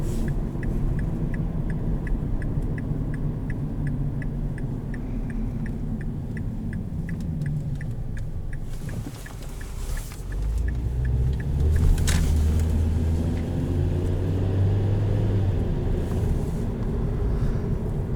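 Steady low road rumble and engine drone fill the cabin of a 2012 Mazda3 2.5i on a 30 mph road, with a faint regular ticking like a turn signal early on and a brief louder surge midway, no talk.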